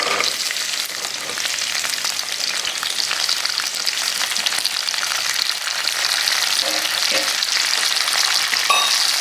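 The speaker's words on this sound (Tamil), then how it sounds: "5 நிமிஷத்துக்கு மேலே நல்லா வதக்கணும்" Chopped pirandai (adamant creeper) sautéing in a pan, a steady close sizzle of frying that runs unbroken through the whole stretch with faint stirring clicks, no voices.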